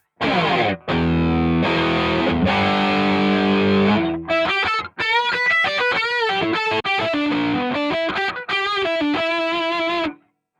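Electric guitar played through a Corona Tri-Chorus effect on a Zoom GCE-3 interface, loud sustained chords followed by a series of separate picked notes and short phrases, shimmering chorus modulation with some distortion, no talking.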